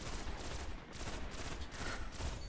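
Pulse rifle gunfire in the online shooter Destiny, a dense continuous barrage of rapid shots in bursts, loud and alone with no talking.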